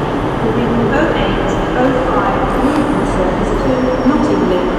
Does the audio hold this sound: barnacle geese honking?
no